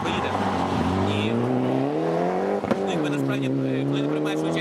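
Rally car racing along a Rally Galicia stage in the Ukrainian rally championship, its engine loud and close with a rising and falling rev, a brief dip and crack midway, then pulling hard again.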